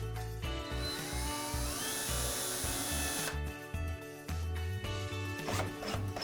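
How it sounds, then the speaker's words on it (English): A power drill whirs close by as it pre-drills screw holes in an elevator wall panel, in a continuous run and then in short bursts with brief stops between them. "Next, you want to pre-drill the holes."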